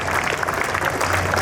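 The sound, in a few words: audience applause at annual function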